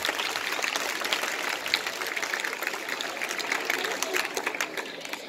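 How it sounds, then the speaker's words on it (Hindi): Audience applause at a government school results event in Lohari Raghu, Hisar, a dense steady clapping wash lasting throughout, with speech-like murmur mixed in. "तालियां बजा सकते हैं आप, शाबाश।"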